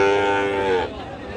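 At a busy livestock market, a bull calf gives one close, loud moo lasting under a second, followed by low background market noise.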